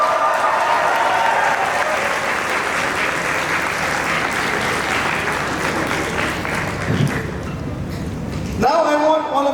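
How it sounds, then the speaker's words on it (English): A graduating class of students applauds together for several seconds, a dense, sustained crowd clapping that fades out near the end as a voice begins speaking. "Look back at the people around you and clap for yourself."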